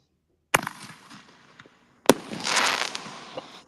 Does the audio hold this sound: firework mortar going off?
yes